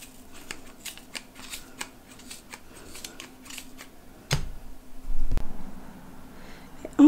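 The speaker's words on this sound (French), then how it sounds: "avec des ciseaux bien affilés, on va aller couper tout un côté comme ça" Sharp scissors snip through yarn while a wool pompom is trimmed, giving faint, irregular crisp clicks close by, followed by a few louder handling thumps and rustles.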